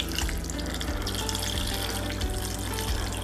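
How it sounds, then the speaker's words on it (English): Vegetable broth pours steadily into a pot of roasted butternut squash soup, a continuous splashing liquid stream that stays loud and close throughout. "So we're going to pour in a little bit of vegetable broth."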